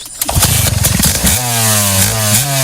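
A small lawnmower engine mounted on a dirt bike sputters to life with rapid cranking pulses, then settles into a loud, close, steady buzzing run with a slight pitch rise.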